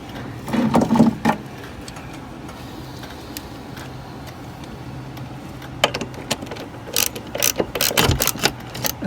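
Hand ratchet snugging a body mount bolt on a 2012 Ford F350 truck, bursts of close, sharp pawl clicking with pauses between, plus some metallic handling knocks, in a quiet garage.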